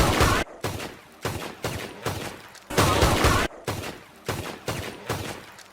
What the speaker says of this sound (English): the pistol sound in trailer 2 is the exact same sound used for the semi-automatic pistol in RDR 2